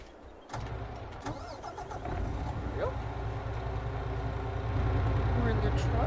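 A truck engine in Farming Simulator 22 cranks and turns over, then settles into a steady rumbling idle that builds slightly louder over several seconds, with a voice talking faintly underneath.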